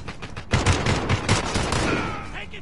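Video game gunfire crackles in rapid, loud bursts of several shots close together, repeating over about two seconds before thinning into a fading, hissing tail.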